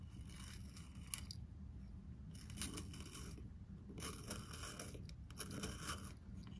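Quiet, soft scraping bursts of a handheld pencil sharpener grinding a pencil, several short passes with brief pauses, close and fairly faint.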